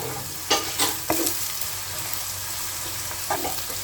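Onions sizzle steadily in a pan for begun-style chicken, with several short scraping stirs of a spatula standing out near the start and again near the end; no talking.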